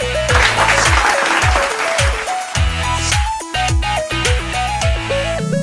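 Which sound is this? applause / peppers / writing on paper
applause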